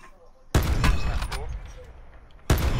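Two loud gunshots from Black Ops 4 Blackout, one near the start and one at the end, each with a sharp crack and a ringing tail in the gap between them.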